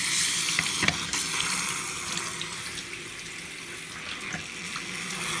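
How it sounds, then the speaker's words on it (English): Water runs steadily from a sink tap, a constant bright hiss with a few faint clinks and knocks underneath, no talking. "Waiting for the water to get hot here."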